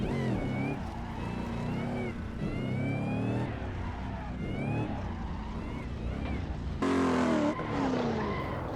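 Car drifting in Assetto Corsa, with tire squeal rising and falling in long wavering streaks over a steady engine roar, continuous and loud, with a sharper burst of squealing near the end.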